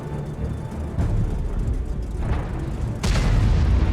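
Artillery shells booming in a World of Tanks match around an E 25 tank destroyer, deep rumbling blasts with a louder impact near the end, over a steady low battle din and without voices.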